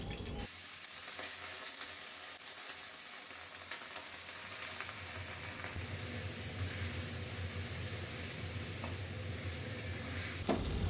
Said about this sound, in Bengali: এতে পরিমাণ মতন ঘি দিয়ে এবারে আমি কাঁচা পেঁপেগুলো ভাজি করে নেব ঠিক এইভাবেই